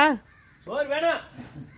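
A crow caws twice nearby, harsh and nasal, the second call longer and louder than the first.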